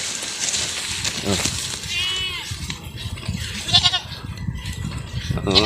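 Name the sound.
Anglo-Nubian / Boer goats eating and bleating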